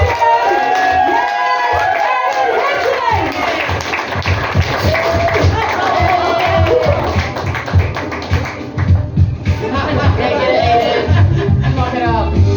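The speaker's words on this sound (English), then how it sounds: "so let's start clapping. Bring it up, louder, louder." An audience claps along in a steady rhythm at a live show, loud and close, with crowd chatter and voices mixed in throughout.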